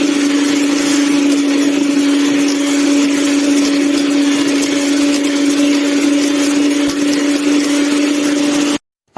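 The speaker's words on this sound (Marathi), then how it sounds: "आता आपण मिक्सिंग इलेक्ट्रिक बीटरने मिक्स करून घेऊयात पुन्हा एकदा" An electric beater whirs steadily while mixing pancake batter made with dry ingredients, a loud, constant motor drone with no pauses that cuts off abruptly at the end.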